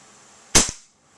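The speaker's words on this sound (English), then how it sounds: "pretty good FPS for a blowback pistol" A single sharp crack from an airsoft blowback pistol fired through an Xcortech X3200 chronograph, a close, loud snap with a quick slide-clack right after it, heard alone in a quiet room.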